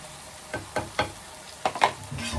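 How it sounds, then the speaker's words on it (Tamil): Chicken frying in a covered pan, giving soft bursts of sizzling and crackling that pop up irregularly in quiet kitchen surroundings with no talk. "மூடி போட்டால் மட்டும்தான் நம்ம சிக்கன் வந்து நல்லா குக் ஆகும்"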